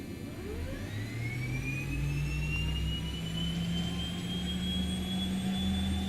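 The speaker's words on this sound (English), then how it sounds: "Let's disconnect and go for a right engine start." The right engine of a King Air C90B turboprop starts up in the X-Plane flight simulator, a steady rising turbine whine that climbs in pitch over a low rumble, loud and continuous with no voices.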